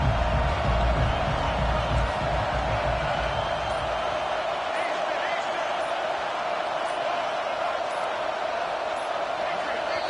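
Stadium crowd roaring steadily in a Madden football video game, a loud, dense wall of noise that swells at the start, then holds constant throughout.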